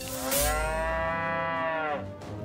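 Cow mooing in the South Park: The Stick of Truth video game, one long, loud, drawn-out low moo that swells and then fades, heard alone.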